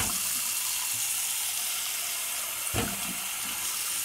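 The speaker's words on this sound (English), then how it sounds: "run some water through it" Tap water runs steadily into a kitchen sink and down a freshly unclogged drain, a continuous bright rushing hiss heard close and alone, with one brief knock near the end.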